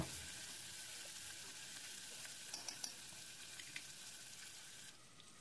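Sliced onions fry in oil with a faint, even sizzle and a few light stirring taps, heard from close by and quiet overall, with no voices.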